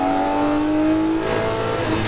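Lamborghini Murcielago LP640 at full throttle on Las Vegas Speedway, engine wailing loud and close with a rising pitch, then shifting and climbing again, with a rough, racing roar.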